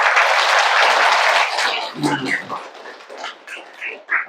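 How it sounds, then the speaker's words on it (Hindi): An audience at a Brahma Kumaris spiritual talk claps loudly in a dense burst of applause that fades after about a second and a half, followed by someone speaking. "दोबारा एक बार जोर से ताली बजाओ"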